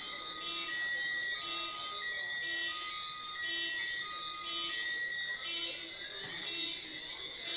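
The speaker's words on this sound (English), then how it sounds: "And clearly, the car alarms agree with me." Car alarms outside an awards ceremony sound faint and distant, repeating high electronic whoops and tones that cycle steadily under a quiet room.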